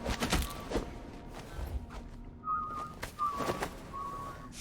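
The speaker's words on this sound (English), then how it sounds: "Whoever it is, they cannot whistle." Off-key, wavering whistling from a character in the stealth video game Dishonored 2, several short warbling phrases heard over ambient game sounds and soft thuds.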